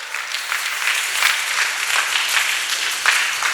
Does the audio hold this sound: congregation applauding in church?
yes